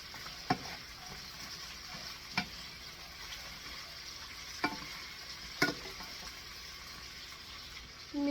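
String beans (sitaw) stirred in a pan, a steady low sizzle with four sharp clinks of the utensil against the pan spaced a couple of seconds apart, close and fairly quiet.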